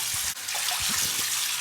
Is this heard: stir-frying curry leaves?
no